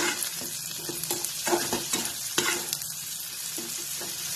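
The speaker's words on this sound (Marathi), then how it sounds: "हळद घालायची थोडीशी आणि थोडंसं मीठ, आणि हे चांगलं हलवून घ्यायचं" Raw tomatoes with turmeric and salt fry in a pan while being stirred, giving a close, steady sizzle broken by irregular scraping strokes and soft knocks, with no talking.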